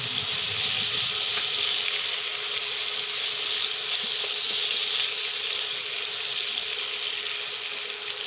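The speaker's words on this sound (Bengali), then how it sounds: "সয়াবিন লাল লাল করে ভেজে নেব।" Soybean chunks frying in a pan with a little turmeric and salt, giving a steady, close hiss and sizzle that holds evenly throughout without any talking.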